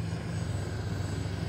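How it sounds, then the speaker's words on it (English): Airplane serving a hospital flying overhead, a steady low engine drone held at a fairly constant level, continuous and unbroken, with no talking. "Just an airplane for the Allegheny hospital, I think."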